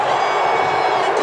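A football crowd at the U.S. Open Cup Final between Seattle Sounders FC and Philadelphia Union at PPL Park roars after a Philadelphia goal, a dense, loud, sustained wall of cheering and shouting.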